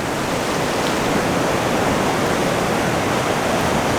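Ocean waves washing over coastal rocks, a loud, dense, unbroken rush of surf noise with no distinct individual breaks or voices.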